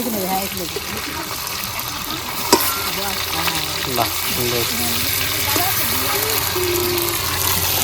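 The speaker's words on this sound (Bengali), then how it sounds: "এই মাছ দুটো ফ্রাই হবে তার জন্য মশলা মাখিয়ে নিলাম প্লেটের ভেতর মশলা ভরে ভরে দিচ্ছে তেল বসিয়ে দিয়েছি" Fish coated in spice paste frying in hot oil outdoors at a village picnic, a steady loud sizzle throughout with occasional sharp pops and clinks, voices talking over it.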